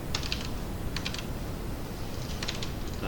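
Code being typed on a computer keyboard in a web development class, with three short bursts of faint, distant key clicks spread over a steady wash of room hiss and no voices.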